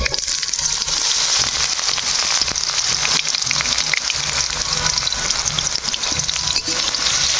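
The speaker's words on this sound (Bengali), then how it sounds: "পেঁয়াজগুলো লাল লাল করে ভাজে নিব" Chopped onions with five-spice seeds fry in hot oil for a fish curry, giving a dense, constant sizzle with light stirring scrapes, loud and close throughout with no talking.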